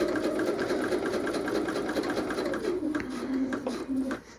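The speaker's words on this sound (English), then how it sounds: "I'm just sewing underneath the top card slot" A domestic sewing machine stitches along the edge of a raw-edge leather card wallet beneath the top card slot, humming steadily up close before slowing and stopping near the end.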